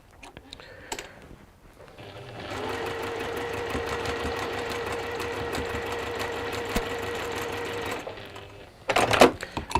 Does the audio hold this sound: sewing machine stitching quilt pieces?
yes